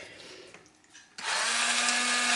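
An electric hand mixer starts up partway through, whipping egg whites with a pinch of salt and sugar into stiff meringue for a poppy-seed cake topping; a steady loud whir with a constant motor hum follows a quieter opening.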